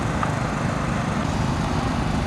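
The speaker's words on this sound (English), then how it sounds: "now he's mowing the right side of the green" A greens mower cutting a Champion Bermuda golf green gives a steady, loud engine drone with a dense whirring cut, unbroken throughout and with no voices.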